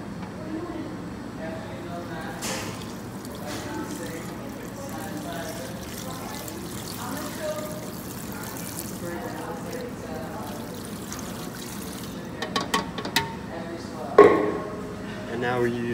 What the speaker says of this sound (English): Now we add the 3 pounds of water.